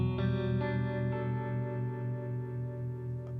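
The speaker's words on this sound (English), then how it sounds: "thank you, Mr. Harmonic Vibrato, for giving me a squishy soundscape to dwell in." A guitar chord rings through an amp's harmonic vibrato, sustaining and slowly wavering in a soft, pulsing swell as it decays, with a faint fresh pluck near the end.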